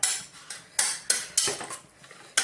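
A spoon stirs biryani masala with yogurt in a metal pot, making a series of sharp, close scraping clinks. There are roughly six strokes in quick, uneven rhythm.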